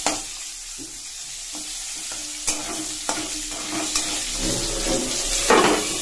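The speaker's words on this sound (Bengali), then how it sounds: "এখন আমি বেগুনগুলো একটু ভেজে নেবো।" Eggplant fries in oil with nigella seeds and green chilli, a continuous sizzle and crackle broken by several sharp clinks and stirring scrapes, growing busier toward the end.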